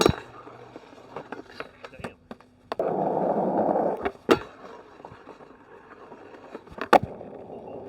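A skateboard grinding a feeble grind, a sharp pop and roll-in, then a rough, loud scraping grind lasting about a second, followed by clacks and rolling noise, recorded close with a little talk around it.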